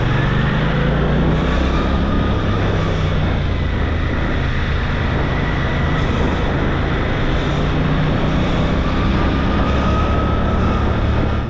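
Suzuki GSX-8R motorcycle under way, a loud steady engine drone mixed with heavy wind rush that runs continuously and close without pause.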